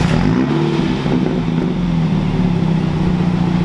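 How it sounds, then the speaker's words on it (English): A car's exhaust revs loudly on a warm start with its exhaust valves open, a close, continuous deep roar rumbling steadily throughout at a cars and coffee meet. "I will be able to finally give you guys that valves open start that you guys deserve"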